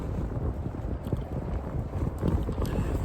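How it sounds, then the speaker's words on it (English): Wind gusts buffet the microphone outdoors, a steady low rumble with no speech over it. "But it's windy out here."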